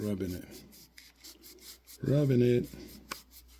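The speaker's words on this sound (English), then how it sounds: "And rub on the other side as well." A dirty half dollar coin rubbed by hand to clean it, heard as short close scraping rubs in bursts, with a longer pass near the middle and quiet gaps between strokes.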